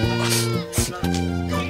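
Goats bleat loudly and close by in a couple of long, wavering calls, one after another.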